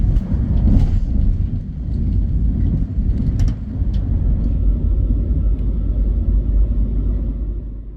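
Steady low rumble inside a KTX high-speed train on a predawn run from Cheongnyangni to Gyeongju, continuous and fairly loud throughout with no talking.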